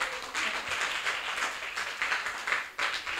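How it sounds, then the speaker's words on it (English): Audience applause breaks out at a humanities talk, a dense, steady wash of many hands clapping at close range, swelling and dipping slightly over a few seconds with no voices on top. "We need to applaud right there."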